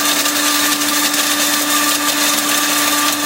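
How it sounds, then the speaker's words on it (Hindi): Electric grinder blending broken long pepper sticks with their tips removed, a loud steady whirring motor hum that holds constant throughout and cuts off abruptly at the very end. "अब हम इसको ग्राइंडर में अच्छे तरीके से पीस लेंगे।"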